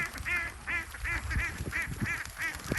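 Ducks quack repeatedly in a quick, fairly regular series, close by, with some low background rumble.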